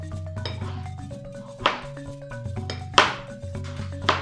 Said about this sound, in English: the open side down, and then cut through it